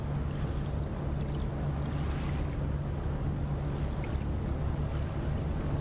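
Low, steady rumble of twin ship engines at low throttle in the Ship Simulator Nautic XP game, a constant hum under washing water and wind noise with no voices.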